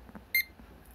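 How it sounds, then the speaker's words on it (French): A barcode scanner gives a single short, bright electronic beep while scanning a book's ISBN, set against a quiet room. "de biper l'ISBN ici"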